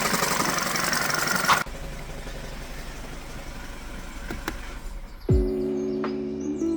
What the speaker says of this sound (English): The engine runs, the fluids are in, and we got a new noise mystery to chase down.